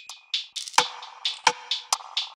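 Percussion loop in a dark, vintage-style beat built in FL Studio, a moderate mix of crisp clicks, shaker-like hits and sharp snaps in a syncopated, repeating pattern, with no voices.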